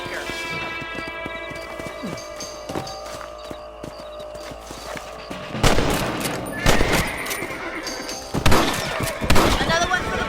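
Rifle shots at varmints in Red Dead Redemption, several sharp cracks spaced out over horse hooves clip-clopping, with voices talking throughout.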